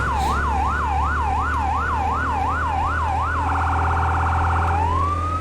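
A fire engine in a firefighting simulator game drives with its siren on. The siren wails in steady rising-and-falling sweeps, switches to a rapid yelp, then winds back up, loud and continuous over a low engine drone.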